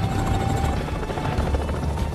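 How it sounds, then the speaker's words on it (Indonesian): In a film scene, a helicopter sent as a medical evacuation aircraft gives a steady loud rotor roar with low thumping throughout, continuous and near. "segera mengirimkan bantuan medis berupa sebuah helikopter untuk mengevakuasi para korban kritis"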